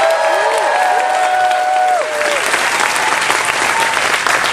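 Loud crowd applause and cheering during morning announcements at a cruise ship show, dense clapping filling the whole moment with whoops and voices over it.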